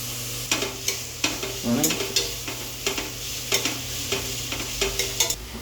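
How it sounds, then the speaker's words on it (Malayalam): Onions sauté with salt in a pan, stirred in rhythmic scraping strokes roughly every half second over a continuous close sizzle, with no speech. "ഓണിയൻ ഒരു ബ്രൗണിഷ് കളർ ആവുന്നത് വരെ വതക്കി കൊടുക്കുക"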